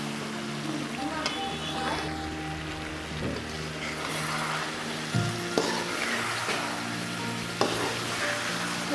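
Elephant apple pickle is stirred in a pan, a soft continuous frying sizzle beneath repeated scraping and clinking strokes of a spoon against the pan.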